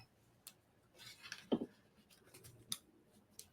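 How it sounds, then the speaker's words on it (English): Paper snips trim the edge of a folded paper piece, giving a few quiet, sparse cuts with a sharper snip near the middle, against a faint room background. "let me get the snips"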